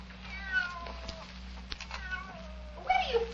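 A cat meows several times in a drawn-out, wailing way, with louder cries near the end, over a steady low hum from the setting.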